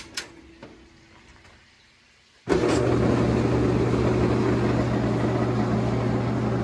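A Hotpoint tumble dryer, freshly repaired with a new drum part, starts up after a few faint clicks and quiet rattles, then its drum spins with a steady loud hum and whir that continues without talk.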